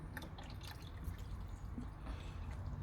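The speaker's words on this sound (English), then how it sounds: "obviously you have to top the water up" Water trickles and drips into the coolant reservoir of a Ford Ka during a top-up, a quiet, close series of light splashes and drips with no speech.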